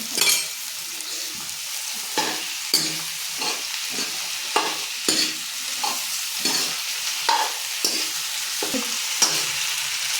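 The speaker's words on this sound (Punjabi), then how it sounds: "ਆਪਾਂ ਇਹਨੂੰ ਪਹਿਲਾਂ ਫਰਾਈ ਕਰਦੇ ਆਂ" Taro and potatoes fry in a pan with a steady broadband sizzle, broken by a repeating rhythm of stirring scrapes and spatula knocks about every half second, close and moderately loud, with no talking.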